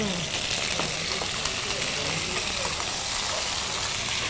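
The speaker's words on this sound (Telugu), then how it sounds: "సో ఆయిల్ హీట్ ఎక్కిన తర్వాత ఇందులో మనము పొటాటోస్ వేసుకుందామండి." Potatoes frying in hot oil for Kashmiri dum aloo, a steady close hiss and crackle of sizzling that continues evenly throughout, with a voice speaking over it.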